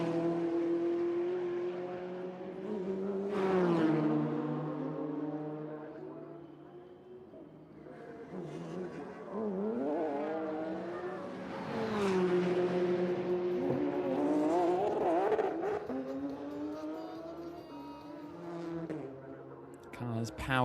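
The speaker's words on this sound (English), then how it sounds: "Will Hunt powering down the hill now." Race cars qualifying at the Vila Real street circuit power downhill, their engines wailing and shifting in rising and falling sweeps as they pass, with a commentator talking over them.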